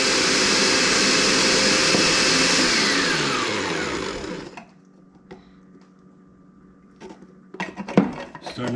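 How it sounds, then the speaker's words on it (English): A food processor whirs loudly as it blends homemade mayonnaise from egg yolks, a steady motor roar that winds down and stops about halfway, followed by quiet and a few clattering knocks. "Really exciting to watch the food processor, you know."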